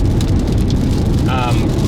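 Heavy rain and hail pound steadily through a severe summer hailstorm with high winds near Philo, Illinois, a loud continuous roar throughout, with a brief higher-pitched tone partway through.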